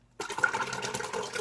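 Warmed raw milk splashes and gurgles as it is poured, a close, continuous liquid rush that starts suddenly and keeps a bubbly, uneven texture.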